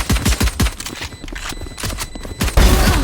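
Video game gunfire: a rapid run of loud shots opening the stretch, then a quieter middle of scattered pops, ending in another heavy burst.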